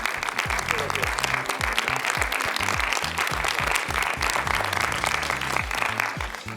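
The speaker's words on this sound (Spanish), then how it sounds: "Un aplauso para ellos." Steady applause from an audience at a film colloquium for the film's team, dense clapping that holds throughout, with a low hum or voices running underneath.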